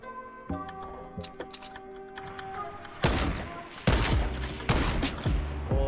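Automatic weapon fire in a squad-mode video game, loud rapid bursts that start after a stretch of quieter clicks and tones and come in three or four close dense volleys.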